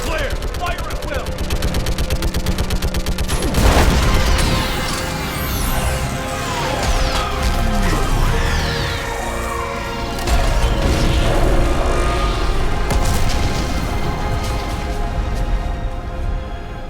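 Dense, loud Mass Effect 3 battle sounds: continuous rapid gunfire with repeated booming orbital strike explosions and crashing impacts, one big blast standing out early, while voices talk over the chaos.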